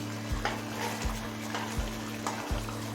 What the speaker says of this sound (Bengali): মিডিয়াম ফ্লেমে মাছের ঝালটা আরও 4-5 মিনিট রান্না করে নিয়েছি